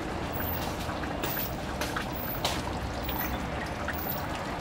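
Green-cap Thai seasoning sauce and light soy sauce pour into a pot of braising pork ribs in a soft continuous trickle, close and even, with faint clinks along the way.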